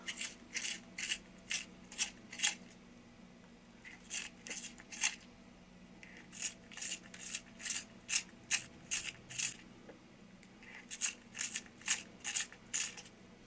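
A pencil is sharpened in a sharpener, giving quiet, close, rhythmic ratcheting grinds in short bursts of several strokes, separated by brief pauses, with no talking.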